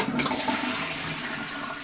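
A bathroom toilet flushes loudly and close, a steady rushing wash of water that holds through and slowly eases, with no talk over it.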